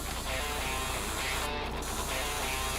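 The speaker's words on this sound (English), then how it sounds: "We are going to spray our molds." An airbrush sprays color onto pastry molds with a steady, close hiss that runs the whole time, briefly thinning once midway.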